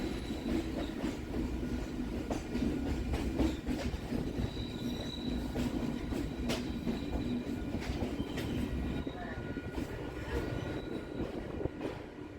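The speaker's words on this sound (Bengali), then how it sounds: "এরপরেই আমাদের ট্রেনটা বাঁ দিকে ঘুরে গঙ্গার পার ধরে চলবে" A Kolkata circular-rail local train from Barrackpore to BBD Bagh rolls along the Ganges bank, a loud continuous rumble with wheel squeal and steady clatter heard from on board.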